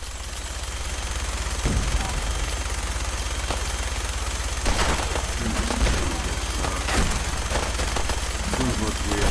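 Gunfire in Fallout 4 Far Harbor, scattered shots and short bursts cracking over a constant dense noisy background, fairly loud and irregular throughout.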